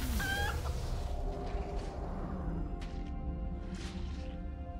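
A chicken in World of Warcraft clucks and squawks in a run of quick, pitched bird calls, then fades into a steady game background hum broken by a few brief clatters.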